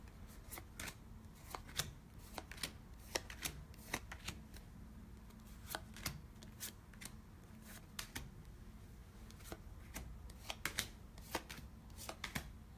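A deck of reading cards shuffled over and over, with repeated crisp riffling flutters and snaps at close range, steady and unhurried with no talk.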